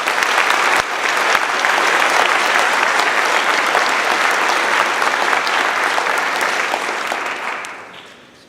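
Sustained, dense applause from an audience at an eighth grade elevation ceremony at a military academy, honoring a leadership award; steady and loud for about seven seconds, then tapering off at the end.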